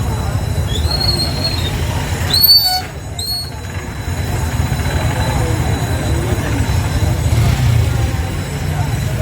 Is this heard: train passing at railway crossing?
yes